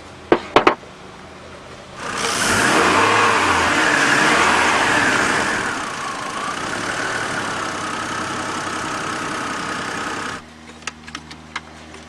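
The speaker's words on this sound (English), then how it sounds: "as long as you still have this sensor connected, you can start up the motor" A Chevy Trailblazer 4.2-litre inline-six starts up and settles into a steady, even idle after new spark plugs, close by. A strong cranking surge comes first and eases into a smooth running hum, and a few light clicks are heard near the end.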